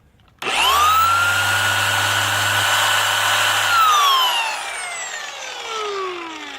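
A Harbor Freight dual-action polisher switches on abruptly and runs with a loud steady whine and low hum, then winds down and changes pitch near the end.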